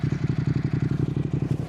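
Motorcycle exhaust heard up close from the right side by a DJI Mic Mini, a loud, fast, even idle pulse that thumps in a steady rhythm throughout.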